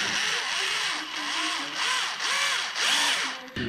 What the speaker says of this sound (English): just grab your drill or, or electric screwdriver and uh, you can actually use a screw for the first contacts